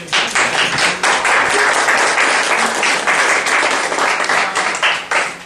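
Sustained audience applause at an annual meeting, a dense, steady wash of many hands clapping loudly throughout with no pauses.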